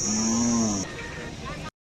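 A Khillar cow at a livestock market in Sangola lets out one loud, drawn-out moo close by, followed by a softer tail of crowd murmur and background noise.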